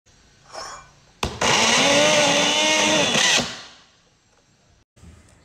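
An electric blender grinding spices with oil for soto lamongan whirs loudly at high speed for about two seconds, then spins down and stops, with faint background noise before and after.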